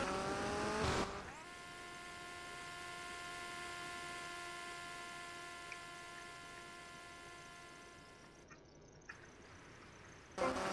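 A car accelerating for a stunt jump in GTA Vice City: a steady engine drone with a high whine runs for about ten seconds at moderate level, then cuts off abruptly, with no talk.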